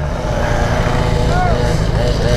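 Yamaha XJ6 four-cylinder motorcycle ridden off-road through jungle, its engine a steady, close, loud drone with faint whistling tones over it, no pauses.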